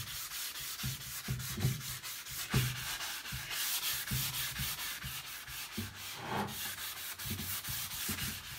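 Painted wood being sanded by hand with fine-grit paper: steady, rhythmic scratchy strokes repeat back and forth, close and fairly loud, with no talking.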